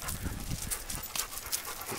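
A dog pants rapidly and heavily close to the microphone, a steady run of breathy huffs lasting throughout with faint background noise.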